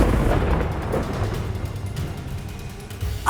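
Confringo fire spell blast in Hogwarts Legacy, heard as a rumbling, crackling explosion with a low boom that fades into a continuous roaring wash of debris and ambience.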